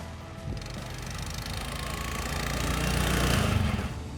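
A single-cylinder snowmobile engine runs steadily up close, its rough mechanical drone building slightly louder toward the end with no talk over it.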